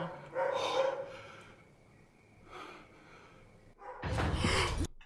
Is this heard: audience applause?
no